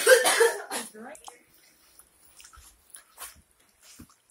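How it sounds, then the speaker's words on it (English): A few harsh coughs and throat-clearing sounds up close at the start, followed by quiet shuffling and faint small noises. "Did you not hear me coughing?"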